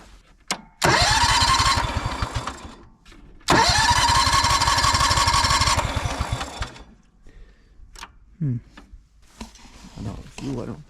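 A Honda 4118 lawn tractor engine cranks in two long loud bursts, each with a rapid chugging beat that sputters without catching, followed by scattered clunks and faint mechanical noises.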